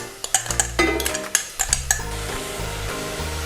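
Garlic and chili hitting a hot pan for crispy sweet and sour chicken, a few sharp clinks of a utensil against the pan over a steady close sizzle that settles into continuous frying.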